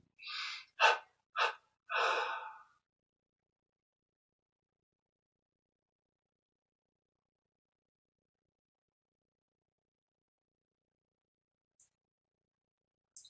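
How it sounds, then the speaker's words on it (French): A close, audible intake is followed by three short, forceful out-breaths in a yoga breathing exercise, then a long held silence with only faint clicks near the end. "On expire en 3 fois et on arrête un instant de respirer"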